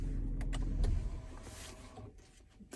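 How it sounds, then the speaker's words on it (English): Car engine switching off in a vehicle fitted with an upgraded Drimatt AC control panel, heard as a close, low mechanical rumble that fades out after a few seconds, with a faint click or whir near the end. "I'm going to turn off the car."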